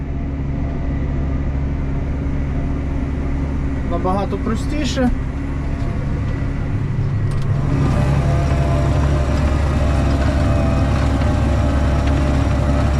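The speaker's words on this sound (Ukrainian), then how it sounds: "Тут трактор працює" A Claas tractor pulls an Alpego tiller across a frosty field. Its deep engine drones loudly and steadily throughout, with a brief rattle partway through, while someone speaks close by.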